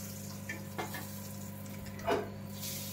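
Amla, Indian gooseberries, drop one by one into very hot oil, sizzling softly with a couple of brief louder spits over a steady low frying hiss.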